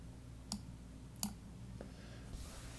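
A computer mouse clicks while the pen tool is used in drawing software: two sharp clicks spaced about a second apart, then a softer third, all faint and isolated over quiet room hiss.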